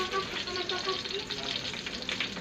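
Eggplant frying in a pan, a steady crackling sizzle that holds throughout with faint background voices.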